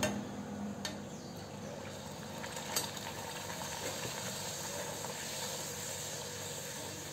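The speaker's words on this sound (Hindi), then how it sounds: "इसी तरह से हम सभी पूरियों को फ्राई कर लेते हैं।" Puris fry in hot oil with a quiet, even hiss and bubbling that stays steady throughout, broken by a couple of faint clicks early on and no voices.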